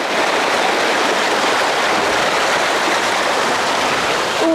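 Water rushing through a normally dry desert wash in Anza-Borrego Desert State Park, a loud, continuous broadband gush heard up close with no breaks.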